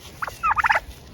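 Turkeys at a ranch gobble in a close, loud burst: a short opening call followed by a rapid rattling series of gobbles, with no talking.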